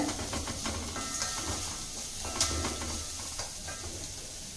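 Steady sizzling and hissing of onions sautéing in oil, with occasional stirring scrapes and clinks, fairly quiet and continuous throughout.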